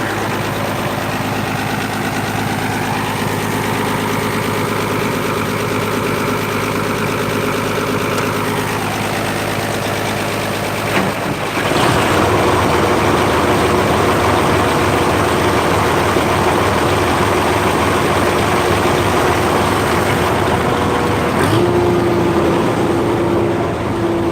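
The 1755 engine idles just after start-up during a soybean harvest, a loud, steady low rumble with constant vibration; partway through the pitch and texture shift as the engine settles into a rougher, fuller drone.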